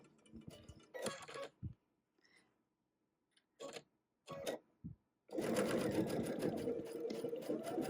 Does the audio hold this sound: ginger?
no